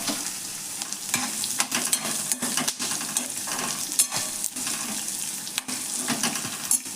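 Garlic frying in oil for a cornflakes chivda, a steady close sizzle with bursts of crackle and stirring scrapes running throughout, no voices.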